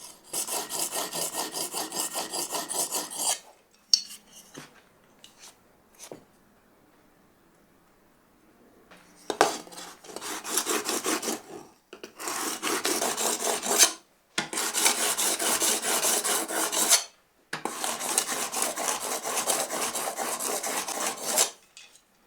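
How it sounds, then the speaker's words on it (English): Wood plane blade bevel rubbed back and forth over diamond sharpening stones, a dry rasping scrape repeated in long continuous strokes of a few seconds each, close and fairly loud, with short pauses between bursts. "After running the primary bevel over the diamond stones, I applied the secondary bevel."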